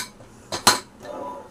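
A metal pressure cooker lid is fitted and closed in a home kitchen while cooking a lamb lung curry. Two quick, loud metallic clanks follow each other closely against a quiet background.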